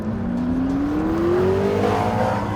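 A McLaren 650S with a 3.8-litre twin-turbo engine accelerates on a race track, its engine note rising smoothly in pitch as it pulls hard, loud and close without speech.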